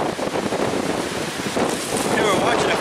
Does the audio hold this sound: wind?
yes